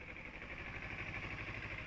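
A 2012 Kawasaki Ninja 250R with its intake snorkel removed idles steadily at about 1,500 RPM, a low, even, continuous engine thrum with a faint hissy edge, fairly quiet and with no talking.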